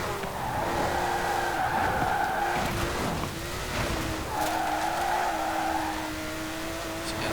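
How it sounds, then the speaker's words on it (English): A 1990 Porsche 911 Reimagined by Singer, a rear-engined car in Forza Horizon 4, drifts with its tires squealing in two long, loud stretches over a steady engine drone, with no one talking. "Let's drift this car because a lot of the weight is at the rear, being a rear engine car."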